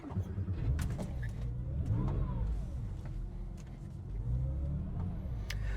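A Porsche 996.2 sports car with a 4.1-litre Hartech engine, ported heads and a carb-compliant California exhaust revs and accelerates up through rising and falling pitch sweeps, growling close by with steady rumbling between pulls.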